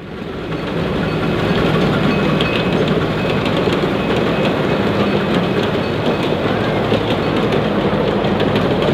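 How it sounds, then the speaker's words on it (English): A 15-inch gauge ride-on model railroad train runs at a model engineers' track, producing a loud, continuous rumble with steady wheel and rail clatter close by and no voices. "the 15-inch gauge train is a pure delight to ride, behind either steam or diesel"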